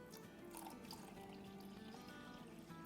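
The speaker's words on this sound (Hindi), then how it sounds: "तो ये पूरा 2 कप पानी हमने इसमें डाल दिया।" Two cups of water pour into a gram flour batter for khandvi, a faint steady trickling and splashing that runs throughout, with no speech.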